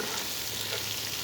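Kabuli pulao with rice and meat is stirred in a hot pan, giving a brief, even frying hiss with soft shuffling stirs close by and no talk.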